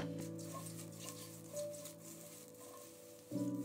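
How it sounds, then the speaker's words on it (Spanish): Shimeji mushrooms sauté in oil in a wok over high heat, a steady close sizzle and patter with a few louder crackles, set against a low constant hum. "Calentamos a fuego fuerte un wok, añadimos un poco de aceite y le damos caña a las setas"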